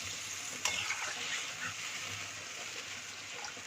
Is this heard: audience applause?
no